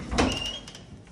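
An apartment's back door opening, a short creak and latch clatter near the start followed by a faint sustained squeal, in a quiet room.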